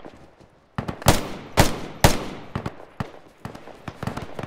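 Several sharp gunshots in the Roblox game Fireteam, three loud close cracks followed by scattered quieter distant shots in an irregular exchange, without speech.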